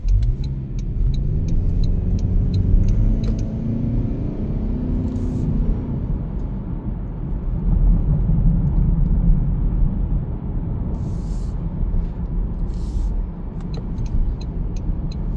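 A 2026 Toyota Camry SE hybrid pulls away from a stop, its low engine and road rumble rising steadily inside the cabin, accompanied by a few faint clicks and soft chimes.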